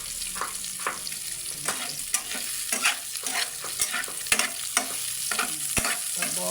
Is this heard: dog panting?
no